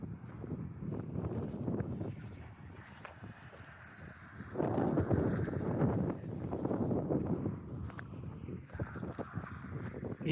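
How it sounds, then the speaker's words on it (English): Strong wind buffets the microphone on a cloudy hilltop along a hiking trail, roaring in uneven low gusts that swell and ease throughout, with no talk. "Don't know if you can hear me for the wind"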